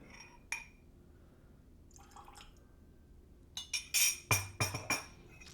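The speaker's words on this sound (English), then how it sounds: "splash of water" Water is poured from a small bottle into a whiskey glass holding Willett Pot Still Reserve bourbon, ending in a quick run of close, crisp glugs and trickles in a quiet room.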